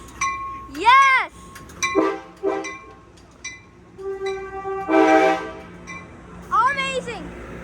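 Amtrak locomotive 6908 sounding its horn at Fullerton station, several loud, bending horn blasts in short bursts across the clip, with excited voices and cheering between them.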